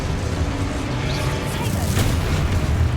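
Confringo explosive spell blasts in a Harry Potter video game, a dense, loud rumbling boom with heavy low-end roar, continuous across the moment with a brief sharper burst midway.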